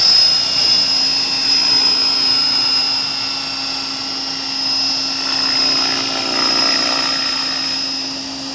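A model AH-1 Cobra helicopter's rotor and mechanics run steadily through a maiden test flight, a loud continuous whine with a high tonal ring and a slight rise partway through, with no talk.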